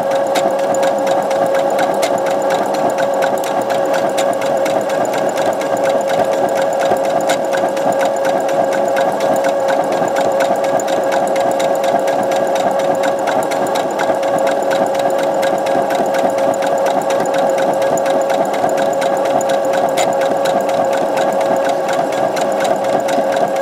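A sewing machine runs steadily while stitching the hem of a jersey T-shirt, a loud, even, continuous mechanical whirr with a rapid needle rhythm that never lets up, with no talking.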